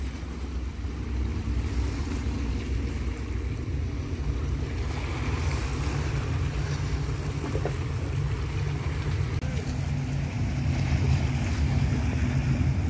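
A boat motor running out on the water on a fishing trip near Fujairah, a steady droning rumble mixed with wind and splashing water, continuous and fairly close, with no talk.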